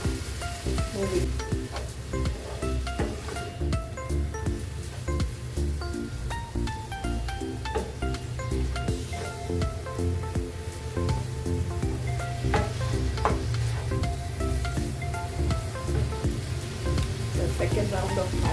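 Boiled Maggi masala noodles sizzle steadily in a hot pan with butter and cheese, a continuous close frying crackle with soft stirring scrapes running throughout and no talk.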